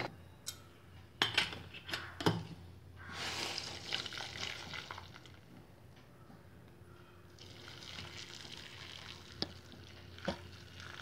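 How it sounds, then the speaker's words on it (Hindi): Boiled spinach is tipped into a strainer and its water drained off in a kitchen, giving a few sharp clatters and splashes, then a soft, uneven trickle and gurgle with occasional metallic knocks, close and moderately quiet. "पूरे पालक के पानी को छान लेना है।"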